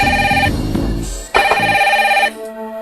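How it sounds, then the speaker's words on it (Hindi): A telephone rings in two bursts of electronic tones with a short gap between, loud and close. "ये सुबह सुबह किसका फोन आ गया?"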